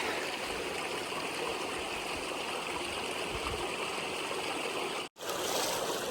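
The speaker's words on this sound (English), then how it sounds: "Well, here's a beautiful creek." A flowing creek along a hiking trail on the Ouachita Trail, a steady, close rush of running water that continues throughout, broken by one brief dropout near the end.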